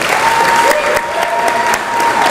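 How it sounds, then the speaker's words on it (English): A crowd's steady, close applause fills a hall as graduating students committing to military service stand lined up at a 2025 school military commitment celebration, with dense clapping throughout and no talking. "Let's give them a round of applause, please."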